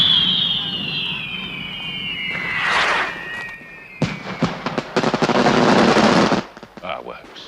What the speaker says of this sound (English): What with all this laughing and fireworks, it'll be a long time before we get any peace tonight